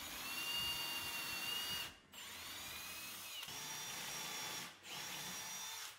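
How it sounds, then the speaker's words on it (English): A power drill whines steadily while drilling dowel holes through a doweling jig into a wooden panel, stopping briefly twice between bursts, loud and close with no talking. "clamp the jig down to the workpiece, and then drill."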